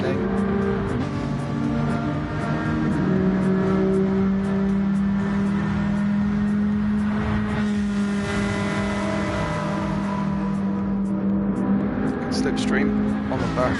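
Gr.4 race cars in Gran Turismo 7 racing at Trial Mountain, their engines droning and revving steadily as they pass through a hairpin, with race commentary talking over the continuous engine noise.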